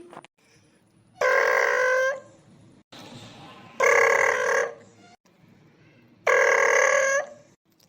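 An electronic telephone ringback tone in a cartoon repeats three times, each long buzzy burst separated by pauses, clear and close, with faint background noise between rings.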